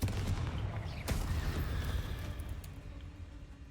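A Confringo blasting spell from Hogwarts Legacy goes off as a single sharp crack, followed by a low rumbling tail and scattered faint impacts. Moderately quiet, with no talking over it.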